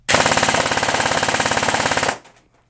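An airsoft gun fitted with a SOLINK programmable brushless motor fires a sustained full-auto burst of about two seconds, a loud, close, fast rattling string of shots that stops abruptly, with no talk.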